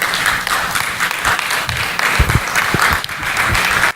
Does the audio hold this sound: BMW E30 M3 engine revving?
no